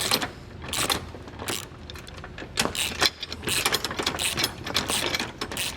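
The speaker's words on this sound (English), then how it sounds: "with my 15mm ratchet, we're just going to go ahead and get this tightened down" A 15mm ratchet tightening a bolt on a Roadmaster base plate for a 2022 Jeep Wrangler, giving rapid bursts of close, crisp clicking in uneven strokes with short pauses between.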